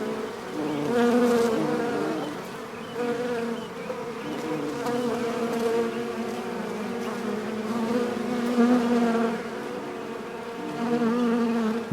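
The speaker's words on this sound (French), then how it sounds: "les fleurs de l'été attirent au jardin les butineurs." Wasps and other foraging insects buzz steadily through a summer garden among flowers, a dense close hum that swells and fades as individuals drift near the microphone, with no voices.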